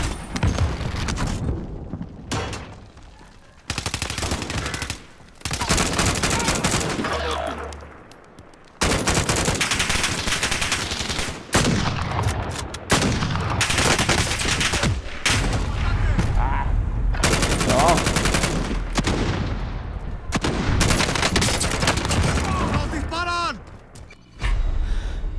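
Automatic gunfire bursts from the video game Warzone, loud and repeated in dense volleys across the clip, with players talking over the shots.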